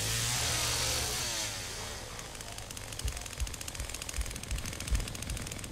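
A chainsaw sputters into life within the Texas Chainsaw Massacre video game, starting with a loud dense rush and then settling into a rough, stuttering motor rattle broken by sharp bursts, with no voices over it.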